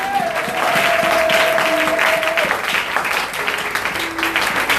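A church congregation applauds and cheers loudly during a service, with sustained clapping throughout and a held musical tone in the background.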